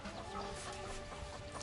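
In the survival game Surviving the Aftermath, a pair of chickens cluck softly and steadily, faint and continuous with no talking over them.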